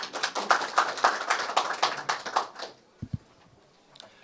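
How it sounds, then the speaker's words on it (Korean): A small group claps for a few seconds, then the applause dies out, followed by a couple of faint thumps. "큰 박수 부탁드리겠습니다"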